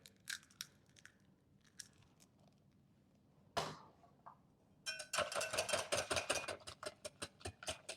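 An egg is beaten into coffee cream pie filling in a bowl. A few scattered clicks give way to a fast, rhythmic run of sharp whisking taps against the bowl.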